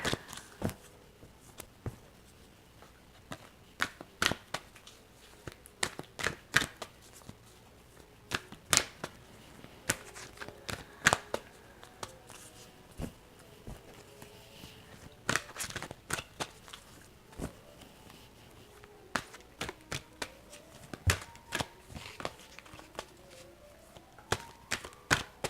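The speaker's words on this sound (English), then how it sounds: "I'm going to pull a card from this Getting into the Vortex Oracle deck" A Getting into the Vortex Oracle card deck is shuffled at length, with crisp close riffling snaps and flicks in irregular bursts over a quiet room.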